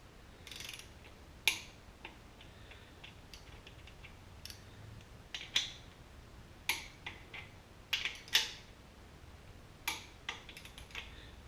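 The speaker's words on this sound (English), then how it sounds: "The main bearing caps need to be torqued down to 100 foot-pounds" Torque wrench tightening main bearing caps on a 1966 Ford Galaxie 500 engine, with faint scattered ratchet clicks and several sharper ticks spaced irregularly over quiet background.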